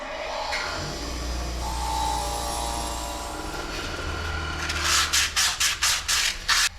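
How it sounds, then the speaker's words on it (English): A wire wheel scrubs a rusty, pitted motorcycle exhaust bracket, a steady whirring grind followed by a series of short, sharp bursts as the part is pressed against the spinning brush. "I'm gonna take this to the wire wheel."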